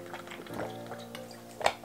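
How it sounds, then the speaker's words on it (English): Water gulped from a large water bottle, with liquid sloshing and gurgling through a steady run of swallows, ending in a couple of louder glugs close to the mic, with no talking. "Kailangan kong uminom ng tubig muna."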